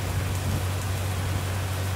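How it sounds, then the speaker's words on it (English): Small pea-sized hail falls steadily during a storm, sounding as a dense, even hiss of tiny impacts with a constant low hum underneath. "Small hail."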